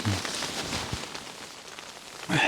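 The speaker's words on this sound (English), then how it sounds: "Still raining" Rain falls outside a Highland bothy at Luibeilt in Scotland, a soft, steady patter and hiss on surfaces, fairly faint, with a brief louder rustle near the end.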